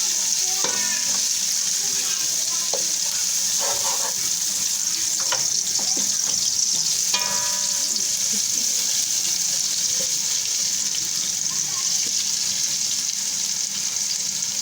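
Onion and ginger garlic paste sizzling steadily in hot oil for aloo matar pulao, with occasional stirring scrapes and clinks over the constant frying hiss.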